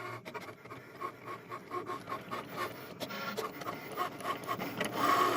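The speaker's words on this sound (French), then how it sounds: "Et la machine devrait me découper mes sapins." Cricut cutting machine slicing paper fir-tree shapes, a steady close mechanical whir with rapid rhythmic rasping and clicking pulses running throughout, no talk.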